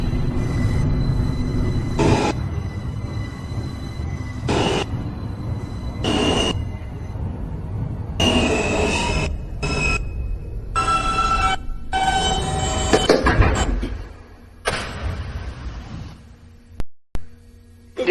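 A New York subway N local train rumbles steadily along the tracks, loud and close from inside the car, with recurring bursts of rattling and wheel noise before the sound fades and cuts out near the end.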